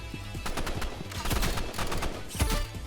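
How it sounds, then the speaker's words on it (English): Rapid bursts of flare gun fire crackle in the Roblox Rivals shooter game, overlapping shots coming in dense, uneven volleys at close range. "So why are you just shooting flare guns at me?"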